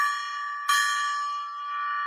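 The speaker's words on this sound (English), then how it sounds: "I'm going to ring the golden gong." A golden gong is struck once, and its bright, sustained metallic ring hangs and slowly fades, clear and close with nothing else heard.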